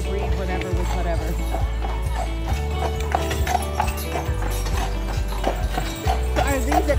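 Steady clip-clop of a Clydesdale and a Percheron cross pulling a carriage, rhythmic hoof strikes close by over a constant low rumble, with a horse snort or whinny mixed in.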